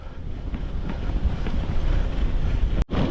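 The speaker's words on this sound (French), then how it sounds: "on est bien exposé au vent" Strong wind buffeting the microphone on an exposed snowy hilltop at Mont Saint Aubert, a loud continuous roar with rumbling gusts and a brief dropout near the end.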